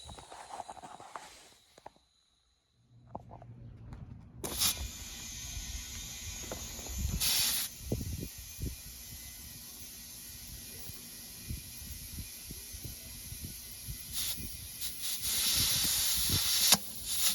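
Air hisses into a tire on a 17x9 wheel through the valve stem of a supercharged 2003 Mustang Cobra, in long steady bursts with short breaks, close by, amid light shuffling and handling noise.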